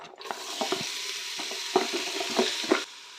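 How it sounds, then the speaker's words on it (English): Onion pieces sizzle in hot oil being tested for frying, a soft hissing bed with a few scraping stirs on top, near and fairly quiet. "I've just tested the oil by putting in a couple of pieces of onions and the sizzling away"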